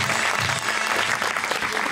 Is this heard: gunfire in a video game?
no